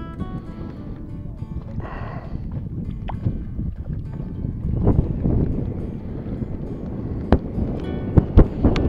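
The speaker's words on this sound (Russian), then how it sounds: "Ветер усиливается." Wind gusts rush and buffet the microphone at a fishing spot, a rough steady roar with a few sharp knocks and clicks toward the end.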